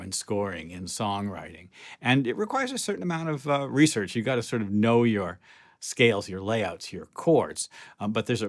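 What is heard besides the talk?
No distinct noise like a dog, phone or traffic.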